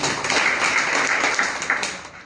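An audience at a motivational seminar breaks into brief, dense applause of many hands clapping together, moderately loud and fading slightly at the end.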